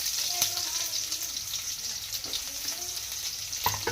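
Onion frying in oil with green chilli and urad dal, a steady, close, bright sizzle that runs the whole time with a few soft stirring knocks and no talk.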